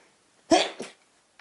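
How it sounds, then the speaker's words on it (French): One close, fairly loud human sneeze in a quiet room, a sharp burst followed by a brief second exhalation, with silence around it. "Je vais éternuer."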